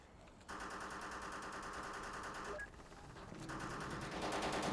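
Sustained automatic gunfire in the game Full Spectrum Warrior, dense rapid bursts that briefly let up and then resume, sounding somewhat distant and steady.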